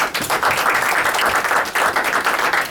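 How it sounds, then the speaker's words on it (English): An audience at a town Q&A event in West Orange, New Jersey, claps in a continuous, fairly loud round of applause, with no speech heard. "I want to give applause to Eldridge Hawkins for coming out"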